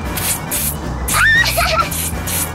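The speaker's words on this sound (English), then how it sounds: "Thanks for letting me spray you, Kaylee." Silly string sprayed from an aerosol can during a playful backyard fight, heard as short hissing bursts with a squeaky can squeal, mixed with children's excited shouts and chatter.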